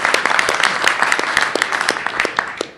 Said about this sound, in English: will you give yourselves a round of applause?